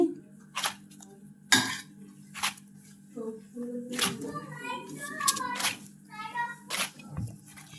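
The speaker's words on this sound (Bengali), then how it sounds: "মিষ্টি জিনিসে লবণ দিতে হয় তাই লবণ দিয়ে দিয়েছি কাইটা মেজে নিচ্ছি" Salted rice flour dough for cheba pitha is worked by hand in a bowl, giving irregular soft squelches, slaps and clinks of the dish, close and intermittent, with a person talking between the sounds.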